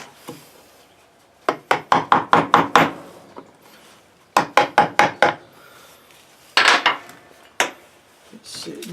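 A small tool scrapes wood away from a railroad spike being made into a hook, in quick rhythmic bursts of sharp strokes with short pauses between the runs.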